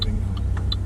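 A car pulling away during a driving test on a Coolaroo route, a steady low engine rumble close by and continuous, with a few faint ticking clicks above it.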